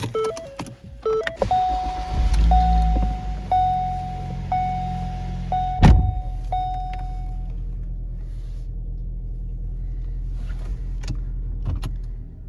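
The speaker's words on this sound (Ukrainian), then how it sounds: "Двигун працює рівно, без ніяких проблем." A 2014 Ford Escape with 175,000 km on it starting up, chimes and beeps first, then the starter cranks and the engine catches with a sharp surge before settling into an even, low idle, close and alone.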